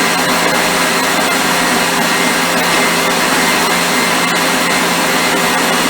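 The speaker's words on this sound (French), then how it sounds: "je branche mon joli petit robot de chez Lidl" A small electric Lidl food processor crushing meringue whirs loudly and continuously at a steady, high-pitched motor drone, close by.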